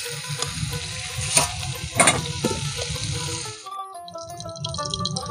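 Rui fish lightly frying in a pan for a bottle gourd curry, a close, busy sizzle with a few louder spoon clatters, easing into a quieter hiss near the end.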